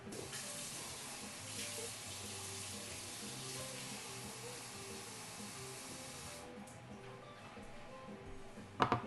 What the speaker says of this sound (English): Then we are going to get our hot water.